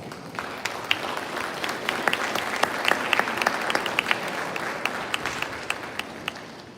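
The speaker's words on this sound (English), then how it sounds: "Give yourselves another round of applause." Dense applause from a large audience at an evening Veterans Day tribute, steady and sustained throughout with scattered sharper claps standing out, moderately loud and without talk.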